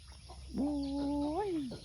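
A fowl's drawn-out call rings out in a hill village in Sangkhla Buri, Kanchanaburi, rising and holding steady for about a second before falling away, close and loud over a low background hum.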